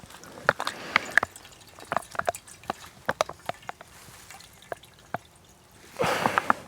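Water drips and splashes through a survival kit filter into a bottle outdoors, a series of irregular close drips, with a brief louder pour-like burst near the end.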